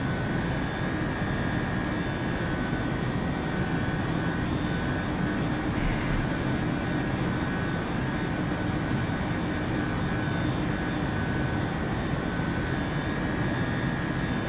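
A PMDG 737-800 jet climbing toward cruise altitude in Microsoft Flight Simulator, a steady broad engine roar with a faint high whine, continuous and unchanging, no talk.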